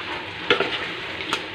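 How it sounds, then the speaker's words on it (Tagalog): Chicken dropped into a thickening chili garlic sauce, giving a short close sizzle with a couple of quick utensil clinks over a steady frying hiss. "Lagay na natin ang ating chicken"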